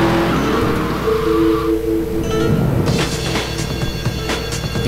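A car driving through the streets in the video game GTA 3, a loud steady engine drone with brief tire squeal and skidding noises, no talking.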